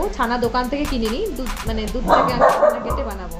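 Pet dog barking in short repeated yaps from indoors near a balcony during a rainstorm, frightened by the weather, with someone talking steadily over it in a kitchen while making rasgulla.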